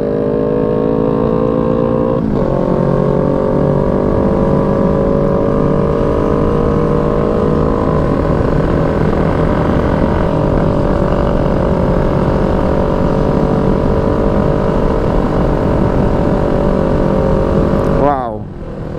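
A loud motorcycle with an aftermarket exhaust drones steadily and close by, its exhaust roaring throughout, with a brief rev change near the start and the end, during light rain.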